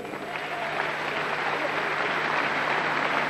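Crowd at a professional boxing event applauding after a fight, a steady wash of clapping and cheering that holds at an even level throughout.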